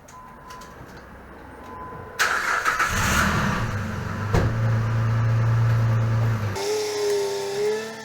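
A Jeep Renegade's engine cranks and catches after a few quiet clicks, then idles with a loud, steady rumble before cutting off, leaving a brief higher whine.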